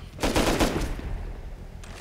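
Gunfire in Rust: a rapid, close burst of automatic shots rattles for about a second, then fades into a lingering echo with one faint later shot.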